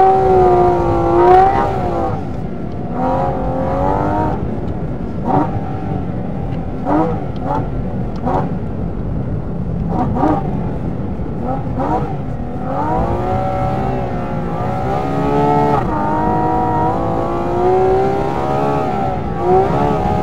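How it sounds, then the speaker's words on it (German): A high-revving Porsche 718 GT4 RS engine, a 4-litre naturally aspirated 500 hp unit, wails and shifts pitch repeatedly on an ice track, rising and falling with throttle, loud and close, with voices talking underneath. "Der Krach, den der Wagen macht hier."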